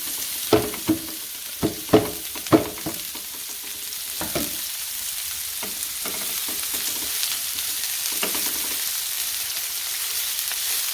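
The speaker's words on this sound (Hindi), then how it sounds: "ये लहसुन हमारा अच्छे से फ्राई हो गया हुआ है। साथ ही हम अपनी ये सब्जियां सारी डाल देंगे।" Mixed vegetables hit a pan of fried garlic while making chicken veg patties, giving a steady close sizzle with a few sharp stirring clacks early on before the frying settles into an even hiss.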